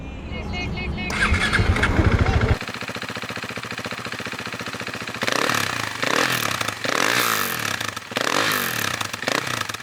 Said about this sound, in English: Riding a very highly modded RC390 sounds amazing.